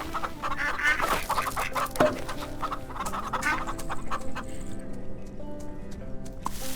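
Chickens in the farming video game Farm Together cluck and squawk in a busy run of short calls, fairly close and moderately loud over a faint background tone.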